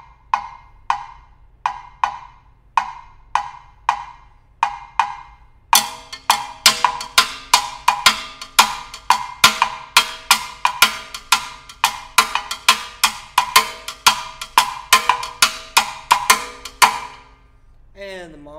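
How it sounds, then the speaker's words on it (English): A 3-2 cascara pattern played on timbales, crisp shell clicks in a steady syncopated rhythm, starting sparse and then filling out with denser strokes, played alone and up close. "3-2 cascara pattern would sound something like this."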